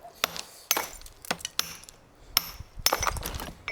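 Loose stones in a stone building knock and clatter as it falls apart, a run of sharp, irregular hard impacts and rattles, close and fairly clear, with no talk.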